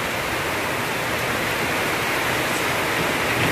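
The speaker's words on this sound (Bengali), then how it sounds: "বৃষ্টিতে ভিজুম" Steady, dense hiss of rain falling during the year's first rainfall, a continuous broadband wash with no break or voice over it.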